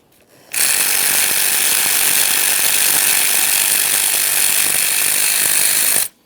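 A power tool whirs steadily and loudly for about six seconds, removing the 10mm bolt on the AC line bracket of a 2013-2020 Ford Fusion 2.0L, starting and stopping abruptly with no talk.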